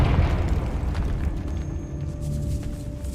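A deep rumbling boom from the Confringo explosion spell in the video game Hogwarts Legacy fades into a low, fairly loud blast rumble with scattered debris-like crackles.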